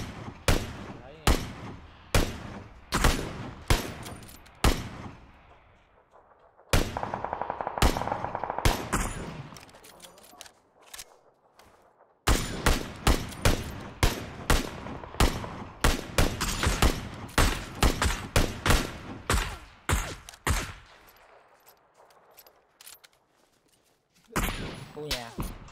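Video-game gunfire rings out in sharp, loud shots and rapid bursts, with repeated volleys and brief pauses across the stretch, while players talk over the shooting.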